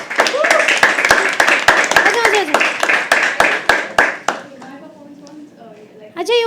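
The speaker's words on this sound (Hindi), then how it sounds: "एक बार और तालियां बजती रहनी चाहिए" Audience at a live poetry open mic claps in a brisk round of sharp, close hand claps that thin out and stop, followed by a voice speaking.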